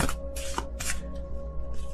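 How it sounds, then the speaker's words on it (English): A large tarot deck being shuffled by hand, with three loud riffling bursts of card noise separated by pauses and a steady low hum underneath. "I love this deck, but it's really hard to shuffle because it's really big."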